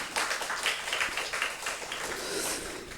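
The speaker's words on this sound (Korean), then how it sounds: "우리 박수를 한번 축복하겠습니다." A church congregation at a Sunday morning worship service clapping together, a steady crackling wash of many hands that fills the whole stretch at a moderate, even level.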